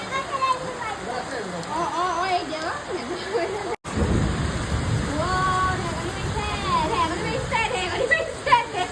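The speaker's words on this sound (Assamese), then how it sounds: "বৰষুণ পৰিছে" Steady rain falling with a low rumble of thunder building in the middle, heavy wash continuing throughout while a voice speaks over it.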